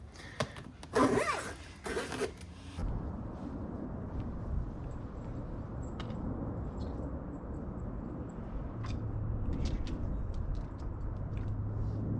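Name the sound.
zipper on a pet bike trailer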